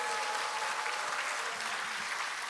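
Hall full of party members at a Democratic Party 70th anniversary ceremony claps for its standing advisers, a continuous dense roar of applause throughout, loud and steady.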